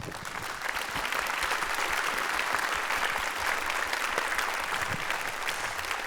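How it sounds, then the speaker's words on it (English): A theatre audience on the closing night of an opera gives steady, dense applause for the production's collaborators, a continuous wash of clapping throughout with no talk over it. "let's give a big round of applause to all of the collaborators"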